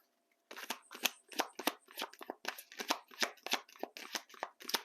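A deck of Valentine Connection tarot cards is shuffled in a quick run of crisp, close riffling bursts, each flutter separated by brief pauses, with no voices present.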